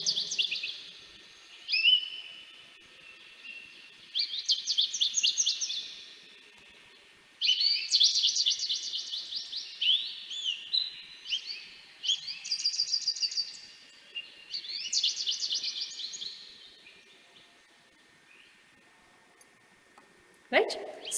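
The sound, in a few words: goldfinch singing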